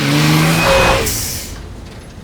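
A car drives onto a weighbridge, its engine revving loudly up close before easing off and fading to a low idle hum.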